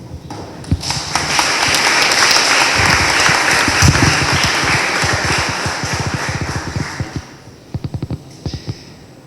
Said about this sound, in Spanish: vamos a recibirlo con un fuerte voto de aplausos